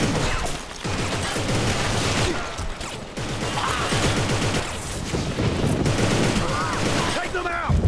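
Gunfire while shooting enemies in the video game Inversion: dense, rapid automatic bursts with booming hits, loud and close. Game voices shout in between.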